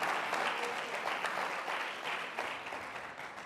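A church congregation breaks into sustained applause during a Spanish-language sermon, a dense, steady clatter of many hands that fills the room and tapers slightly toward the end, with no voices rising above it.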